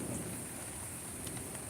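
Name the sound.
rain and thunderstorm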